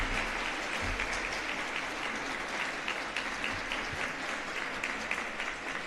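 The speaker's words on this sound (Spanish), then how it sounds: "les pido un fuerte aplauso para todas las y los ganadores de estos premios" An audience claps for the winners of a historical research career awards ceremony, a continuous, even wash of applause heard from a distance at moderate volume throughout.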